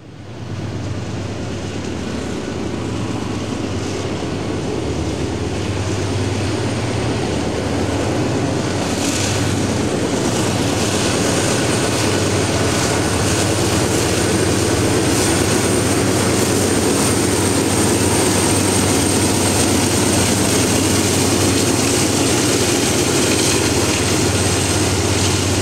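A heavy freight manifest train with distributed power locomotives, one leading and one mid-train, creeping uphill into Cresson on the Pittsburgh Line, a loud, steady diesel engine roar and rumble sustained for the whole stretch.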